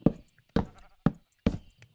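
Sheep bleating in the Minecraft video game: four short, close bleats spaced evenly about half a second apart, each with a sharp onset and a quick fade, with quiet gaps between them.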